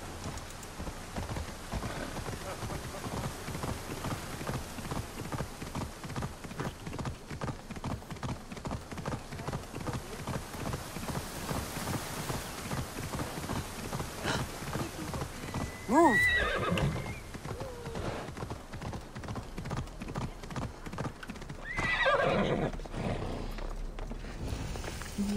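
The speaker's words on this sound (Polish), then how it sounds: "A da się konia wezwać" A summoned horse in Assassin's Creed Odyssey gallops with rapid, rhythmic hoofbeats that run steadily throughout, broken by loud whinnies around the middle and again near the end.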